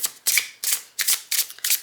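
Oracle cards being shuffled by hand, five quick riffling bursts in a loose, uneven rhythm, close and fairly loud with no talking.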